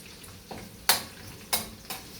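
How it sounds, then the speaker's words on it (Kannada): Garlic frying in a pan with bay leaf for a baingan biryani, giving a faint low sizzle broken by several sharp stirring scrapes and clinks of a utensil against the pan. "ಬೆಳ್ಳುಳ್ಳಿ ಫ್ರೈ ಆಗ್ತಾ ಇದೆ"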